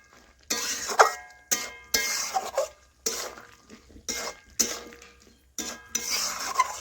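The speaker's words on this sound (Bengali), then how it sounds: "এইভাবে নাড়াচাড়া করে একটু ভেজে নিয়েছি" Ridge gourd cooking in its own water in a pan is stirred in short bursts, a spoon scraping and clattering against the metal in several separate strokes with brief quiet gaps, no talking.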